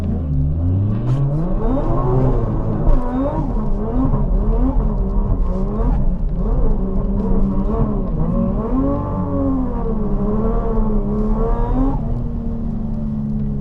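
Car lapping a wet race track for the first time, engine note rising and falling steadily through gear changes and corners, heard loud and close from on board.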